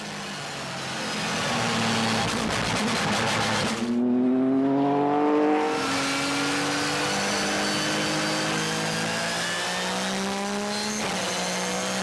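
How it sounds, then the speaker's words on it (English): Porsche 911 GT3 RSR race car accelerating hard out of a corner onto a straight, a loud, close engine rising steadily in pitch through a gear change, with a brief cut in power mid-run. "Exiting each corner, the Porsche squats on the rear axle, offering maximum traction and launches the car onto the following straight"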